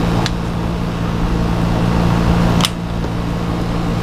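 An airbrush sprays pearlized paint at higher pressure, giving a steady close hiss over a constant low compressor hum, with a sharp puff of spray near the start and again just before the three-second mark.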